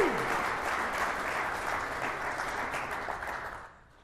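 Audience at a Right to Repair Act panel discussion claps for the panel, a full, sustained round of applause that holds steady before tapering off and fading out near the end.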